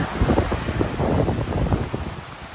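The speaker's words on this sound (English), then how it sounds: "Whew, it's breezy up here." Gusty wind rushes across a mountain trail in the Smoky Mountains, a steady close roar with rising and falling buffets against the microphone and no talking.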